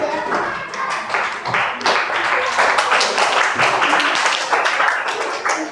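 Hands clap in bursts during a balloon-blowing science experiment game between boys and girls, giving quick, close, uneven claps mixed with excited talking voices.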